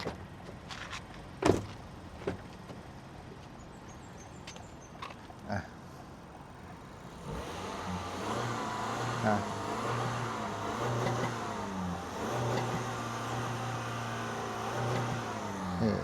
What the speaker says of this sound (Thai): เดี๋ยวลองฟังเสียง เครื่องยนต์กันนิดหนึ่ง